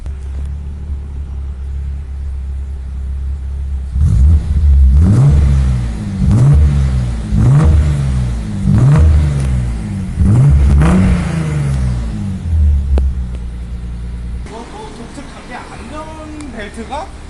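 A Nissan 300ZX sports car engine, heard from outside, idles with a deep rumble, then revs repeatedly in strong rhythmic bursts before settling back to a low idle.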